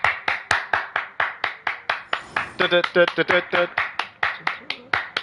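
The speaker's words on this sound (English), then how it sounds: "Everybody clap your hands." Steady rhythmic hand clapping from a group, sharp and evenly spaced, continuing throughout while a voice chants briefly in the middle.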